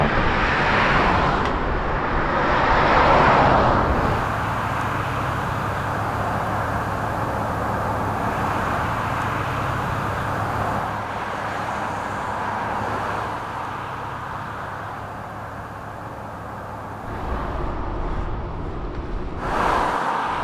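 Cars passing through an enclosed road tunnel, heard from a bicycle on the Pacific Coast Bike Route in southern Washington: a steady, booming traffic rumble swells as vehicles approach and roll by close behind, with no talking.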